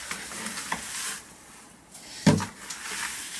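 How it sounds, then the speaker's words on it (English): Sifted soil is mixed by hand with wool pellets for soil blocks, making soft scraping, stirring rustles with a few sharper scuffs and a clunk close by. "So I'm gonna mix this with my wool pellets"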